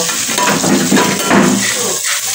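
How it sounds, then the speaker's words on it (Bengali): Steady sizzling and crackling of food frying in a pan, with light stirring and scraping, close and continuous. "আলু ভাজা হচ্ছে, আলু ভেজে করব"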